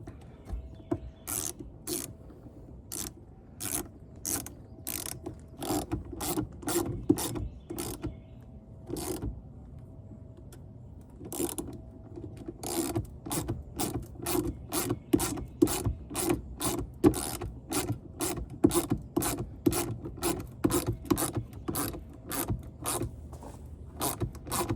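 A hand ratchet clicks rapidly in long runs as bolts on Roush rear side splitters are tightened on a car, sharp close ticks coming in quick bursts with short pauses between strokes.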